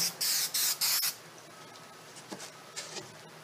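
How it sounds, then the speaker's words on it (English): Spray adhesive hisses onto foam for a dining room chair seat re-cover in three quick close bursts, then soft handling noises follow. "the next step is to apply a little bit of spray and adhesive"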